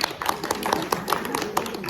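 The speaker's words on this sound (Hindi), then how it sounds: "जो करेंगे अपने लिए ताली बजाओ" An audience claps for themselves at a talk, a brief burst of dense, rhythmic hand claps, close and steady, with a little voice underneath.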